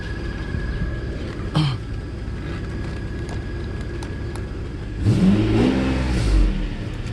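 A Mercedes SL600 engine is restarted, idling with a faint whine before a short rev, then a louder surge of acceleration near the end that climbs and falls back, nearby with no talk.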